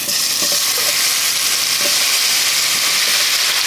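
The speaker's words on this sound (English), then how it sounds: "Keep the flame medium and sear the vegetables all around." Marinated vegetables searing over a medium flame in ghee infused with mace blades and cloves, a loud, continuous hissing sizzle with occasional soft stirring knocks and no talk.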